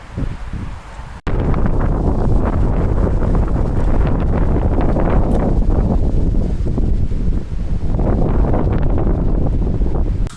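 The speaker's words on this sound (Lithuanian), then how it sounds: "Čia nuo jūros vėjas labai didelis, tai nupučia viską." Strong sea wind on the coast at Gdańsk buffets the microphone in a constant low roar, broken only by a brief gap near the start, with no voices.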